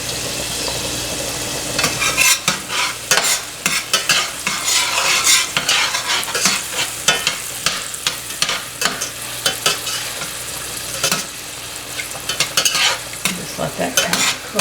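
Minced garlic cooks in a hot pan, a steady sizzle broken by repeated scraping stir strokes from a utensil, close and fairly loud, with no talking.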